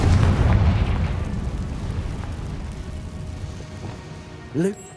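A Confringo blasting spell in the Hogwarts Legacy video game goes off as a loud, rumbling explosion that fades slowly over several seconds, ending in a short swooping magical whoosh.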